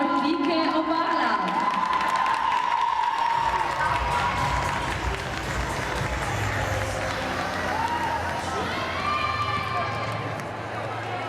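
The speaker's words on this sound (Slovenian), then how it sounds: "En aplavz prosim za junior Pike Obala." A crowd at the 2021 national championship cheers and applauds for the junior team of sports club Pike Obala from Slovenia, a loud sustained roar of clapping, whoops and shouting, with voices and tonal sounds over the top.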